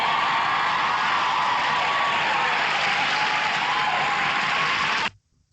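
Studio audience applause and cheering, a dense, steady wash of clapping that holds at an even level for about five seconds before cutting off abruptly into silence.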